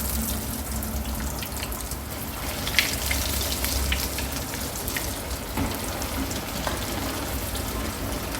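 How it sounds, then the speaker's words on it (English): Fish rolls frying in hot oil in a pan give a continuous crackling sizzle with scattered sharper pops, fairly close and steady throughout. "Put to a pan and heat the oil. And we'll add the rolls now."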